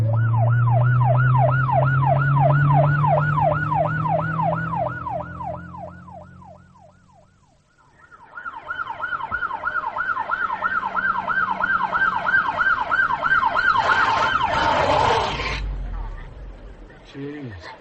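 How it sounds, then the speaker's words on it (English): Police car sirens wail in a continuous rising and falling cycle, loud and close, fading briefly before returning over engine rumble, with a burst of noise near the end. "Sirens and lights."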